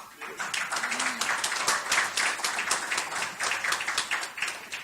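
Audience clapping at a literary prize ceremony, a moderate round of many hands with distinct individual claps audible, steady throughout with faint background voices.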